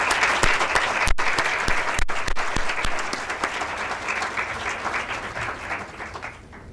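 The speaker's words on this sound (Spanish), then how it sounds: "Un aplauso para Yosmaira." Audience applause at a presentation of a report on mental health in the Dominican Republic; sustained dense clapping from a room full of people, loud and steady, with a few sharper claps before it fades toward the end.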